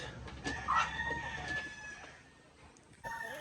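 Barred Rock hens clucking and calling close by, a few short squawks early on, then quieter clucks and another call at the end.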